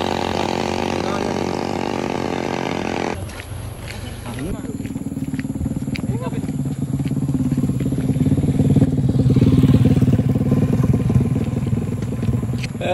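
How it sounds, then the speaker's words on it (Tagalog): An ATV engine rumbles past during the Siargao Marathon race day, a rising and fading motor drone that starts midway and swells near, under chatter and crowd noise. "ATV."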